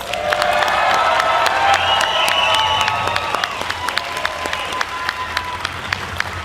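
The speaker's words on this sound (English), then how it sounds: "Let's give them a huge round of applause." Outdoor No Kings rally crowd in Twin Falls breaking into loud applause with whoops and cheers, dense clapping that gradually thins while sharp individual claps stand out nearby.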